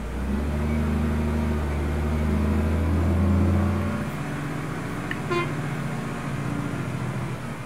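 Bus horn honking on a Setra S517 coach in Euro Truck Simulator 2, a sustained loud low blare lasting about four seconds over steady engine hum, then a brief higher toot near the end.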